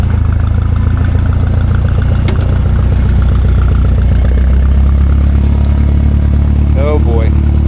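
A Minneapolis-Moline tractor idles in heavy snow, a loud, steady, close low rumble that runs unbroken throughout.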